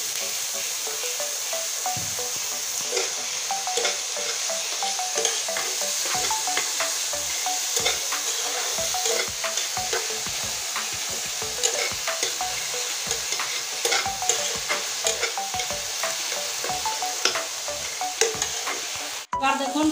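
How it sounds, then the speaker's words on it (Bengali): Tomato and onion frying in fish oil in a pan, a loud steady sizzle with continuous stirring scrapes throughout, ending in a sharp clink. "অর্ধেকটা লাল করে ভেজে নিয়েছি"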